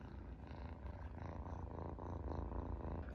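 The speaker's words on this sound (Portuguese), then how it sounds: "Ouçam esse barulho, eu amo esse barulho." A kitten purrs continuously up close in a home, a steady, rumbling low drone with an even rhythmic pulse and no other sounds over it.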